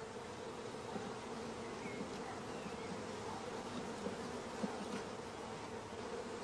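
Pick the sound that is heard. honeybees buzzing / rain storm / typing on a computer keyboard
honeybees buzzing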